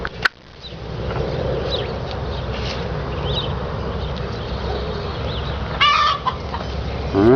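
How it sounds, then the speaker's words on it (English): Chickens cluck in their coop in a garden, a steady busy chorus of clucking under outdoor noise, with one louder squawk near the end. "I hear our chickens making noise"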